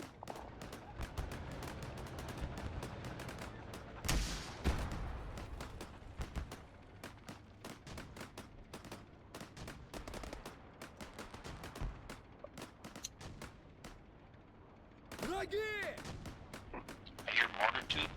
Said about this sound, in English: I hear mortar tube thumps.